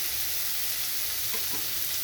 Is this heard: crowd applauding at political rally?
no